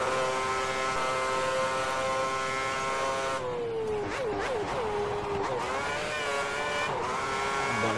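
A race car engine at Monza in F1 2010 holds a steady high whine, then dips and wavers as it brakes and downshifts before climbing again through the gears, loud and constant.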